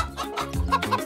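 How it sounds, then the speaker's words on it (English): A chicken clucks in a quick run of short, nasal calls, close and fairly loud with no talk over it. "Oh, a chicken!"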